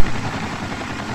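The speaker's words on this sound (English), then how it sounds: "don't shoot the choppers" A helicopter in the video game Sniper Ghost Warrior gives off a loud, steady, rumbling drone that fills the whole moment without talk.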